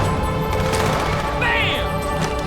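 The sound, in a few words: gunfire in Halo 2 video game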